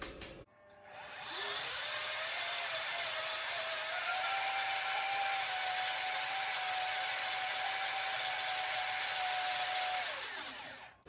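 A food processor blends oat and banana muffin batter in one continuous whirring run of about ten seconds, spinning up and winding down at the ends. It sounds close and steady, with no talking.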